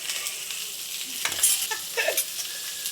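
Onions and green chillies going into hot oil with curry leaves, a loud constant sizzle broken by scraping stirs from a spoon, with no talk.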